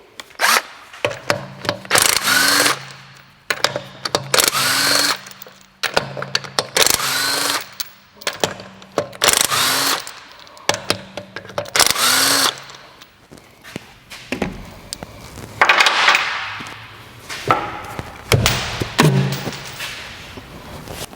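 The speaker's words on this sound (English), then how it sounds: "Now the first thing we need to do is to remove the rear wheel." Power tool bursts, likely an impact wrench, loosening the rear wheel bolts on a BMW, repeated in short whirring pulses with clunks and handling thuds between them, close and loud, no talking.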